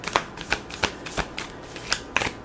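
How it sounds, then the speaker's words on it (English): A deck of cards is shuffled by hand, a quick series of crisp riffling bursts in an irregular rhythm, close and clear with no talking. "I don't know why I'm shuffling this deck first."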